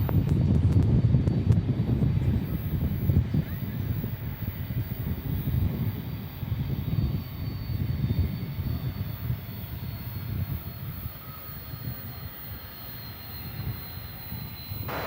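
An American Airlines jet roars on its takeoff run at Dallas/Fort Worth Airport, a broad, steady rumble heard from a distance with wind buffeting the microphone, slowly fading over the stretch.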